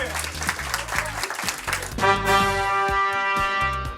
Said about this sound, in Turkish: Aras Bey'i alkışlayarak uğurluyoruz